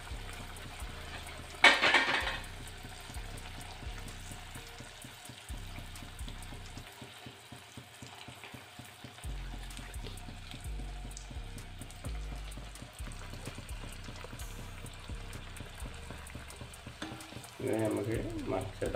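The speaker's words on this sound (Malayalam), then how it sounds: "നമ്മളിവിടെ ഓയിലേക്ക് ഇട്ട് പൊരിച്ചെടുക്കാൻ പോവാണ്" Evening snacks frying in hot oil in a home kitchen, a steady low sizzle and bubbling heard close, with a sharp burst of crackle as pieces go in and more clatter near the end.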